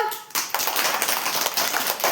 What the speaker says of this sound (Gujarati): જુઓ, તાળીઓ પાડો તો.